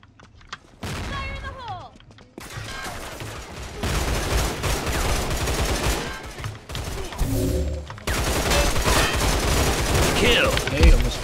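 Gunfire from the Line Of Sight video game rattles in dense bursts after a quiet opening, with a brief pause near eight seconds before the shooting resumes loud and close.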